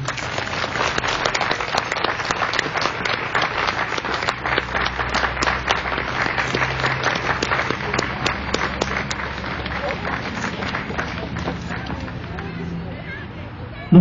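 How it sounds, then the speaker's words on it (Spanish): Church congregation applauding during a pastor's sermon, sustained crowd clapping with a murmur of voices underneath, fairly even throughout and fading slightly toward the end. "Dale un aplauso al Señor."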